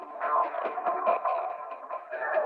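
A stereo music recording processed with LFO-driven formant filter, bandwidth and dry/wet modulation, giving a vowel-like voicing that swells and fades over a steady midrange wash, no speech.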